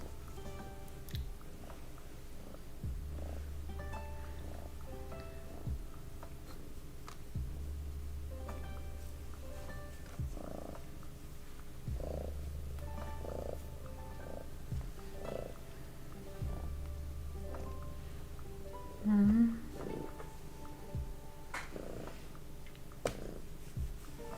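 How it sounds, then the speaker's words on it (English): A house cat purring close by, a low rumbling purr that repeats in regular cycles of inhale and exhale over a quiet room, with a brief louder rustle near the end. "So, I'm now besieged by a cat."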